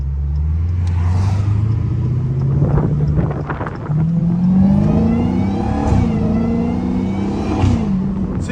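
A Dodge Hellcat rated around 1,000 horsepower revs loudly up close, its deep engine note climbing and dipping through several pulls, with a steady low rumble and rising harmonics across the whole stretch.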